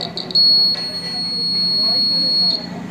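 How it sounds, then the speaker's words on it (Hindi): A buzzer beeps while motorcycle indicator wires are touched together for a test, giving a few short beeps followed by a longer steady tone lasting about two seconds, close by with faint background noise. "बज किस में रहा है, मतलब बीप जैसा साउंड आ किस में रहा है"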